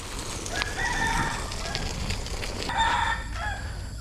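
A rooster crows twice over steady background noise, the calls somewhat distant and drawn out.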